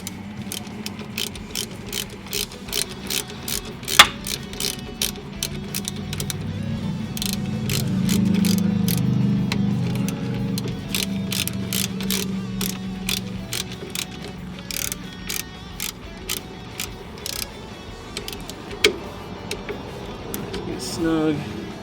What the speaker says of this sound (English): we can go ahead and get our trans mounting bolts tightened